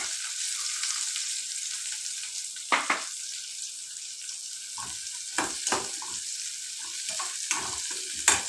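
Onions sizzle and fry in a pan for potato chilli, with a steady hiss throughout and occasional louder stirring scrapes and spatters near the mic.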